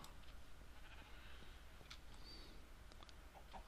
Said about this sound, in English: There's a sheep up there.